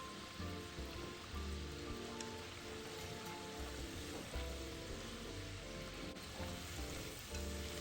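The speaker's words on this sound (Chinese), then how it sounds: "全程中小火炸至表面微金黄后，捞出沥油" Taro pieces deep-frying in oil over medium-low heat until lightly golden, a dense steady sizzle and crackle with small bubbling pops, close and continuous without any voices.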